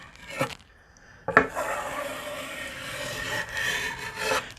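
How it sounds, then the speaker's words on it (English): Hand rubbing and pressing a stencil flat onto a wooden board, working from the center outward; a steady, close, dry scraping friction sound that runs for several seconds after a couple of brief taps, with no talk. "You're just pressing it down."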